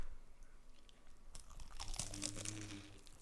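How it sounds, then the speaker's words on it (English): A close, crisp crunch comes from biting into battered fish and chips, the brittle crackle of the coating breaking loudly after a quiet moment. "We gotta hear the crunch."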